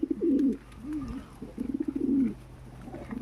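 Domestic pigeons cooing in soft, repeated bursts of low rolling coos, close by, with short pauses between calls and no talking.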